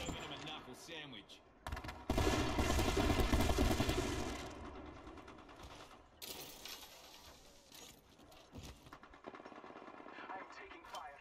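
Gunfire bursts in the battle royale game Apex Legends, a loud sustained volley early then scattered shots and clatter, with game voice lines and effects mixed in.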